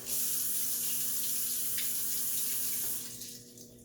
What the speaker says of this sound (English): let me grab my spatula, rinse it off real quick